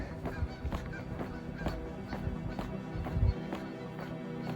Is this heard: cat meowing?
no